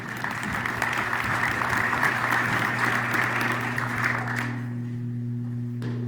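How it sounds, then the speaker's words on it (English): A room at a planning and zoning meeting breaks into applause, a steady patter of many hands that runs several seconds before fading out, with a low hum of the hall underneath. "I think we should give them all a round of applause"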